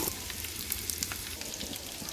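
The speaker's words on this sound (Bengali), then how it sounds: "সবার আগে আলুটা ভাজবো মাংসের যে আলু দিব সে আলুটা ভেজে নিব" Potatoes frying in hot oil for a chicken curry sizzle and crackle steadily, with rapid small pops scattered through a continuous close hiss.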